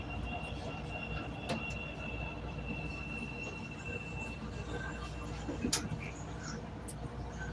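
CTA Red Line train running through Bryn Mawr station in Chicago, a steady rumble of rail cars with faint wheel squeal and a brief clank near the end, heard under a low voice.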